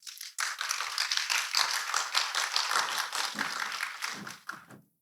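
Audience applause at the opening ceremony of LCOY Korea 2026, a youth climate conference, a dense wash of many hands clapping steadily for several seconds before tapering off into a few scattered final claps.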